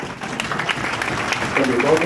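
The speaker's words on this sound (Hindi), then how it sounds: "जिस जोश से आपने ताली बजाई" An audience at a study-plan talk claps, a steady patter of applause that carries on under a speaking voice.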